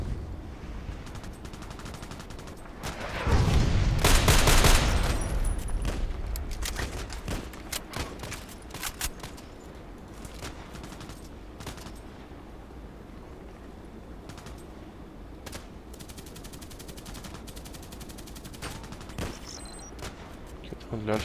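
Gunfire from a sniper rifle and other weapons in a first-person shooter game: a loud dense burst of shots early on, then scattered sharper cracks and ticks over a steady background, with someone talking throughout.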